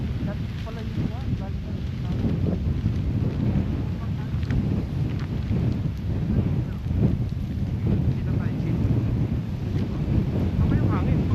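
Strong wind gusting across a frozen lake in -30°C cold during ice fishing in Canada, a continuous roaring buffet on the microphone that lasts throughout, with faint voices underneath.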